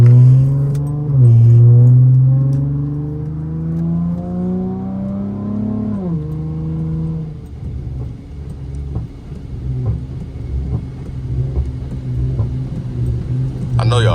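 A car's exhaust drones and revs on a rainy drive, then drops into a string of crackling pops and burbles under a steady low rumble, close and fairly loud.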